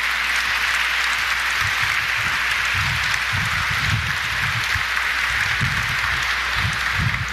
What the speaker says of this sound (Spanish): Le damos un aplauso a estos hermanos misioneros